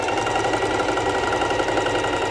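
A sewing machine runs steadily and close up while stitching a lettuce-edge ruffle along the border of stretchy bikini fabric, giving a dense, continuous mechanical whir with no pauses.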